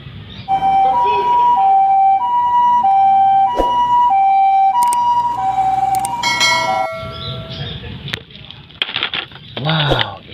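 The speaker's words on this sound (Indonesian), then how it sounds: "Ini ada mobil ambulans." A toy ambulance sounds its siren, a bright two-tone electronic wail alternating in a steady pattern, close by, followed by clicks, handling noise and a voice talking.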